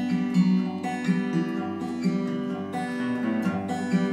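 Solo acoustic guitar fingerpicks a folk-style introduction in an irregular, non-alternating pattern, sustained notes ringing over a low bass, played close and moderately quiet without any talking.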